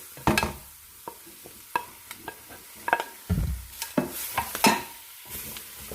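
Parsley, sliced carrots, celery and onion sauté in a soup pot with soft sizzling, broken by sharp clicks and scrapes of a spoon stirring, close and intermittent, with no voices.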